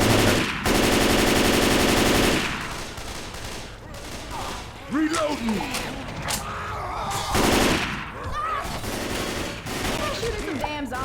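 Rapid bursts of automatic gunfire crackle through a zombie shooter video game, loud stretches of machine-gun fire broken by pauses, with someone talking in between.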